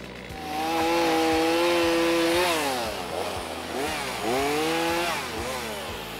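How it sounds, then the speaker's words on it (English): A chainsaw cuts firewood on a cold night in the Newfoundland backcountry, its loud sustained engine whine rising and falling in pitch as the chain bites and eases through the wood. "he fires up a chainsaw to produce a higher volume of wood"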